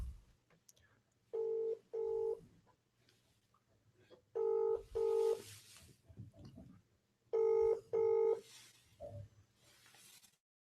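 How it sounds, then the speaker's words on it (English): A telephone ringback tone on a live radio call-in sounds in repeated double bursts, three pairs spaced evenly, with faint background voices between the rings. "just the phone is ringing"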